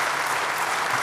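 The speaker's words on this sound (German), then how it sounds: "großen Applaus für die Jungs" A hall audience at the 28c3 hacker congress annual review talk applauds, a brief, dense burst of steady clapping at even loudness.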